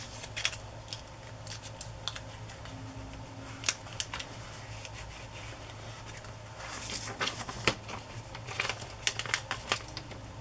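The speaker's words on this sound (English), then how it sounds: "I will trim off the excess before I cut her out" Scissors trimming excess paper from a cutout for a weekend collage planner spread, giving a scattering of close, quiet snips at irregular intervals with soft paper rustling between them and no talk.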